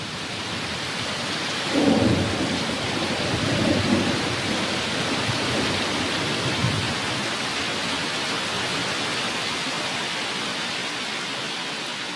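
Heavy tropical wet-season rain pours in a dense, steady hiss while low thunder rumbles early on, then the downpour carries on alone.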